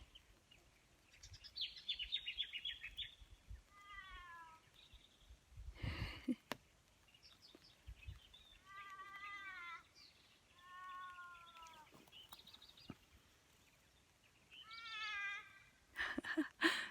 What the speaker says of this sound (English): Crows sound so forlorn, don't you think?